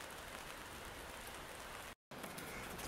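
Light rain sprinkling at a campsite, a steady even hiss of fine drops across the whole stretch with one brief cut to silence near the end, no voices.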